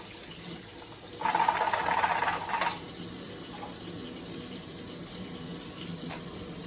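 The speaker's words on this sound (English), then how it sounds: "Wash out the inside of your reservoirs and your tanks, any dirt, soap." Tap water runs into a sink for about a second and a half while appliance parts and reservoir tanks are washed, then stops, leaving quiet room tone with faint clinks.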